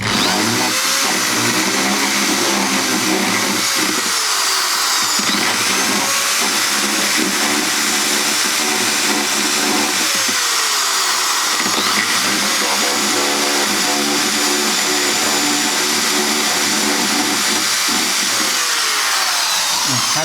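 A loud, constant power-drill whine runs without a break, shifting in pitch now and then as the bit bores through the wooden body of an acoustic guitar to fit a pickup.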